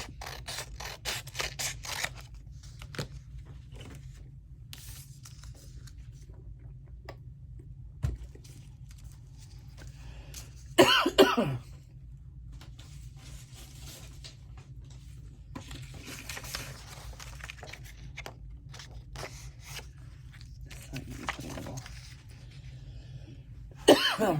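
Scattered coughs and clicking mechanical noises over a quiet background, with a louder cough burst midway and another near the end.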